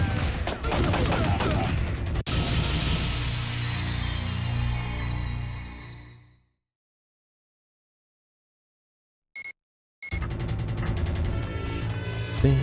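Enemy gunners firing in the PS1 game Time Crisis: dense, loud bursts of gunfire with game music for about six seconds, then silence broken by a brief blip, and the shooting resumes at full volume.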